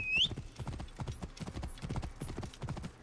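Steady clip-clop of horse hooves trotting at a brisk, even rhythm, fairly close, with a brief high whinny-like tone at the start, in the video game Assassin's Creed Origins.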